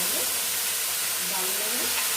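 Ingredients going little by little into a hot pan for a Sunday special, giving a continuous close sizzle and hiss with faint clinks and shuffling as food is stirred in, no clear speech.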